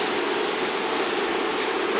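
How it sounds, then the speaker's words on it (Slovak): A RegioJet passenger train rolls along the rails with a steady, fairly loud rushing drone and no distinct clacks, heard up close with no talking. "lebo ten vlak dosť zvučí, ale krásny."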